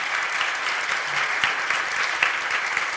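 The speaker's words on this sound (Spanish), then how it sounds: "Un aplauso, por favor" An audience at a talk on quantum mechanics breaks into sustained applause, a steady, dense wash of clapping from many hands with no voices on top.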